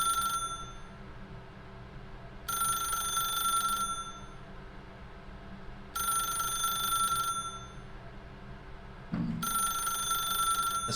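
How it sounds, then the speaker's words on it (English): An old-style telephone bell rings in a video game, three long loud bursts separated by pauses of about two seconds, over a steady low hum and with no voices. "Is it just gonna keep ringing"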